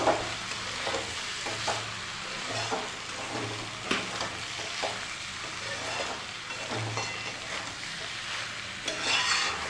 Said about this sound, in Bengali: আবারও ভালো করে নাড়া দেবো